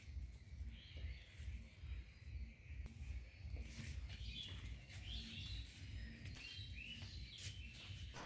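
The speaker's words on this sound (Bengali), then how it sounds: "ঘুম থেকে উঠেই শুনলাম পাখির কলরব, আর একটু ক্যামেরা বন্দিও করে নিলাম" Birds chirp and tweet continuously around a house in the morning over a steady low rumble, several calls overlapping at moderate distance with no voices.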